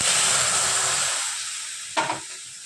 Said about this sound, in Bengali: এখন এই ঘিয়ের মধ্যে আমি দিয়ে দেব হচ্ছে দুধ